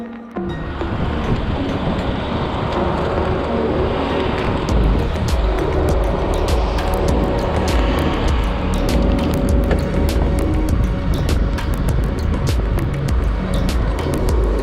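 Steady loud roar inside a Soviet-era Antonov 24 turboprop airliner on a flight to Chernobyl, a dense continuous engine and cabin drone with no talk.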